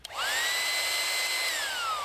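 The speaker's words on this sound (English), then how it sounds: "this awesome little like drill pump thing right here" A drill-powered air pump for inflating an inflatable pool boat whines steadily for about two seconds, loud and close, its pitch rising at start-up then slowly sagging near the end, with no talk over it.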